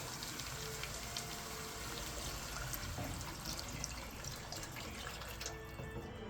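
Water is poured into a pot of vegetable soup, a faint, steady splashing and trickling stream of liquid heard alone without talk.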